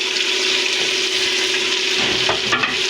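Beef with masala, ginger and chili frying in a pot for a desi beef stew, a loud, dense sizzle with stirring scrapes near the end, close and unaccompanied by talk.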